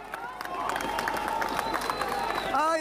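Rescuers bring a young girl out alive from the collapsed Ariguaní building in Cali, and a crowd shouts and cheers steadily, with a few claps and overlapping excited voices throughout.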